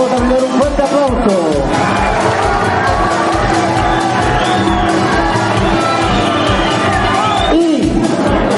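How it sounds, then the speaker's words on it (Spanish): A school crowd at a student pageant election cheers and shouts in a loud, continuous wash of voices and whoops, with a dense babble filling the whole stretch. "Vamos a dar un fuerte aplauso."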